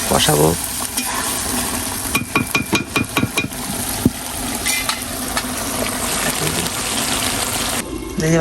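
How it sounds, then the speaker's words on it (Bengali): Meat is sautéed in a pan until browned, with a continuous sizzle and a quick run of rhythmic scraping stirs from a spoon against the pan near the middle, then more steady frying. "দেখো যে মাংস কষানো হচ্ছে"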